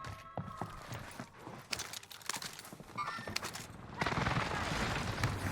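Rapid bursts of P7 gunfire in Warzone Rebirth, sharp cracks and scattered shots in a busy firefight, with footsteps and other game noise around them and a louder stretch of continuous fire toward the end.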